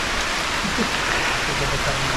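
Heavy rain falls steadily during a storm on a hillside farm, a dense, constant wash of drops throughout with no break.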